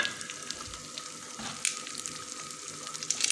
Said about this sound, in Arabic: مكان البصل كده هنزل بالشعريه، وايدي فيها بقى يعني ما بسيبهاش عشان تحمر